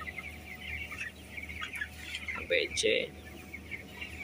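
Broiler chickens cluck in a partitioned closed-house coop near a blower, with faint scattered clucks and two louder bursts midway, all under someone talking.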